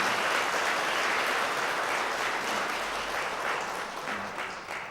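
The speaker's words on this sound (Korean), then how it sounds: "여러분들 격려의 박수 부탁드리겠습니다" A church congregation at a Sunday service applauds in encouragement, a loud, full wash of clapping from many hands that holds steady and then tapers slightly toward the end.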